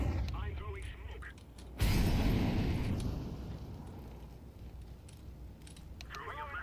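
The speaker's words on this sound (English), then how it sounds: "I'm throwing a flashbang." A flashbang grenade goes off in a tactical shooter game, a sudden sharp blast that decays into a long ringing wash, with faint game noise before and after.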